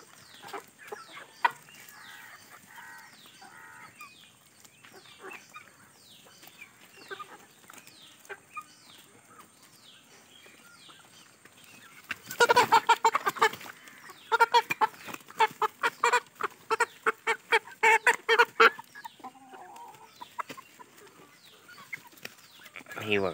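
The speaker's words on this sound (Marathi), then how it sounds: "ही पण कोंबडी आहे" Chickens on a low-budget free-range poultry farm in Konkan cluck and squawk repeatedly, starting sparse and close, then swelling into a dense burst of overlapping calls with some wing flapping before settling again.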